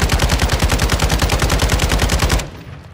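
Kastov 762 rifle in Modern Warfare II fires a steady full-auto burst of rapid, evenly spaced loud shots, about twenty rounds over two and a half seconds, ending abruptly into a quiet tail.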